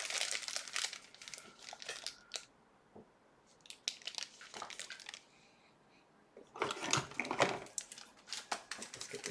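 Crinkling plastic packaging from a blue parcel being handled and torn open, crisp rustling bursts in separate clusters with quiet pauses between, close by and alone without talk.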